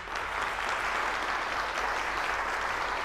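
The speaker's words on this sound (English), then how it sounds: "Give yourselves a round of applause." A church congregation gives steady, close applause that lasts about three seconds at an even level.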